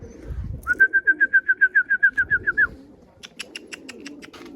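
Tumbler pigeons call nearby in a fast, even trill of about a dozen beats, followed by a short series of crisp clicks over faint low rumbling.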